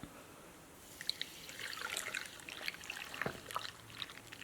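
Spring water pours into a jar of garlic for fermenting, a soft trickling and splashing that builds over a few seconds, close by and fairly quiet.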